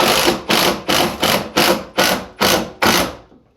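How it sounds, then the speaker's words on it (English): A screw is driven into the wall, pulling a Kohler mirror medicine cabinet tight against the sheetrock. It sounds as a rapid, loud ratcheting clatter in about eight evenly spaced bursts, close up with no talking. "once this screw bites onto it, it'll start sucking it tight to the wall"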